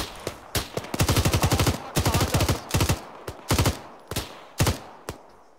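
Close, loud automatic gunfire in a combat game firefight near a sandbank base, several rapid bursts of shots interspersed with single cracks, no talking.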